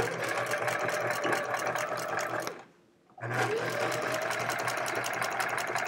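A sewing machine fitted with a walking foot stitches a quilt, running with a loud, fast mechanical whir close by. It stops briefly partway through, then starts running again.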